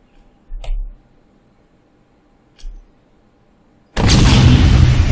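A grenade is thrown in an Unreal Engine 5 game: two short dull thuds as it lands and bounces, then a loud, sustained roaring blast of the explosion, with no talking.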